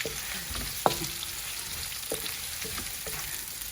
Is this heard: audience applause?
no